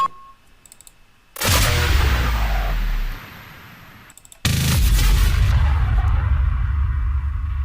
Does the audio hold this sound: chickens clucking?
no